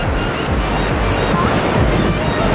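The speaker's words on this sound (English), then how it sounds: "And it's super windy, as you can probably tell." Strong gusting wind buffets the microphone at Huntington Beach, with crashing surf rumbling underneath, loud and continuous.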